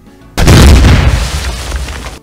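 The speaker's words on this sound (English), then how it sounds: "So let's add C4 explosion on MP3." A C4 explosion sound effect lands as a sudden loud boom, its deep rumble swelling and then slowly decaying for nearly two seconds before cutting off.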